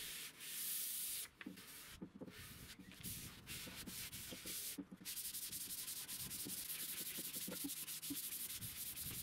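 Wet sanding a finished plywood armchair with 400-grit paper, a close, steady rhythmic rubbing with repeated back-and-forth strokes and brief pauses, no voices.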